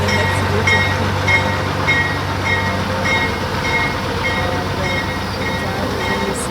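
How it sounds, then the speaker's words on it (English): A passenger train rolling along its rails makes a steady, loud rumble, with rhythmic clicking of wheels over track joints running continuously throughout. "I love that sound on the train."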